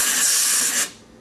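A can of compressed air sprays into a computer drive, a steady bright hiss lasting most of a second before cutting off abruptly, leaving a faint background.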